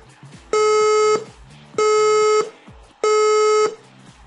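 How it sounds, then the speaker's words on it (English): Three long, steady electronic alert tones from an evacuation siren at a jamboree, each lasting about half a second to a second, with short gaps between them and faint background noise. "the alert tone, which is a single long beat repeated"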